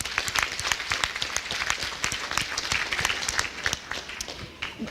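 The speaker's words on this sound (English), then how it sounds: "Let's give them a round of applause as well." Audience applause at a school board trustees listening tour evening, steady dense clapping from a seated crowd throughout, moderately loud and continuous without a break.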